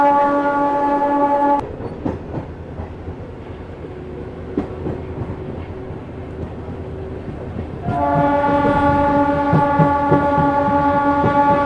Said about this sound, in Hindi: तो हमारी ट्रेन अब आ चुकी है घोघरडीहा।